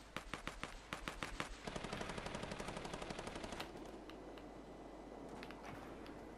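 Rapid bursts of automatic gunfire in Fortnite Battle Royale during a 50 vs 50 match, a dense run of sharp repeated shots that settles into a continuous rattling barrage, with a few more isolated shots near the end.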